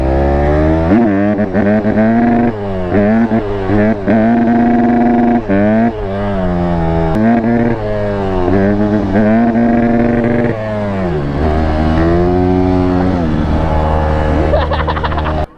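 Dirt bike engine revving hard and repeatedly bouncing off the rev limiter, loud and close with a stuttering, clipped note, plus a second engine joining in near the end.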